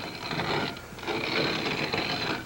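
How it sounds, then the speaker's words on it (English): A hand-cranked corn grinder steadily crunches and grinds dried corn, a continuous close, gritty rasp with slight rhythmic dips as the handle turns. "here's a hand corn grinder, the kind you can get in a lot of stores nowadays"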